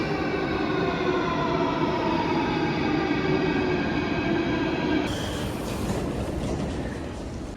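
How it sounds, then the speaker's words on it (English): An Athens, Greece metro train runs with a loud, continuous rumble and rising whine, the roar easing slightly toward the end. "Here's the Greek metro, guys."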